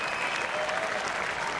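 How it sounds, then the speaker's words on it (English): A stadium crowd at the O2 arena gives a standing ovation after the FIFA 18 eWorld Cup Grand Final, with dense, steady applause and cheering that fills the whole stretch at a constant level. "he's getting a standing ovation from this crowd at the O2"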